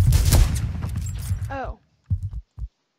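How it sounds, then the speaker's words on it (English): Gunfire in a Roblox video game comes as a dense, loud burst of rapid shots over game sounds, followed by a few short separate bursts after a pause. "Oh, who's shooting at me?"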